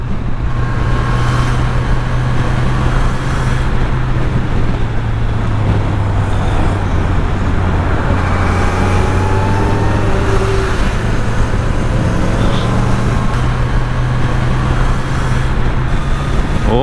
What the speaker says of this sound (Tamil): சரியான டிராஃபிக்.